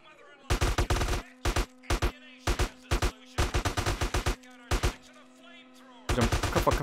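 Bursts of gunfire in GTA San Andreas, loud and close, fired in rapid clustered volleys with short gaps between them.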